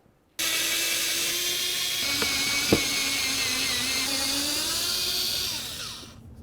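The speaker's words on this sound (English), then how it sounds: "put a socket right on there with a ratchet and just go ahead and remove the bolts" A power tool spins continuously on a 2009–2020 Dodge Journey fog light's bolts, a loud whining, whirring run for about five seconds that winds down at the end, with one sharp click partway through.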